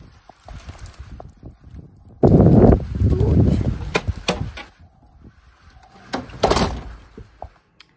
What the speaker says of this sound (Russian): Надо закрыть дверь.